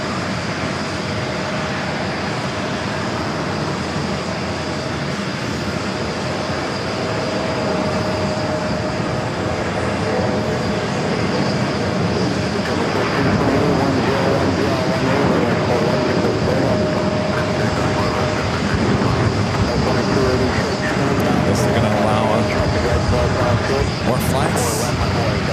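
A CRJ regional jet takes off from runway 4 Left at JFK airport, a broad, steady engine roar building and holding for the full length while people talk over it.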